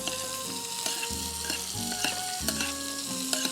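Cinnamon basil stirred into a sizzling pan, a constant close frying hiss punctuated by regular scrapes and clinks of a spoon against the pan.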